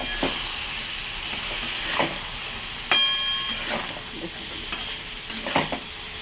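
Spices with turmeric and chili powder sizzle and fry in a pan while being stirred and sautéed, a steady close hiss broken by scraping stirs and small clanks.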